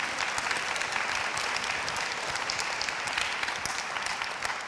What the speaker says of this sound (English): I'm going to ask you to please give a very warm round of applause to our financial services panel this afternoon